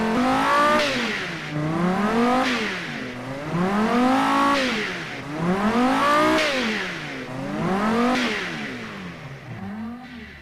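A car engine in a car-building video game revs repeatedly, climbing and dropping in pitch about five times in steady swells, close and loud with no voices.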